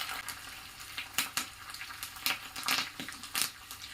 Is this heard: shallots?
yes